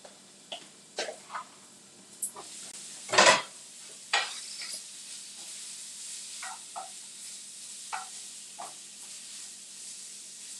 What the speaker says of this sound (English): Hear that chicken sizzling.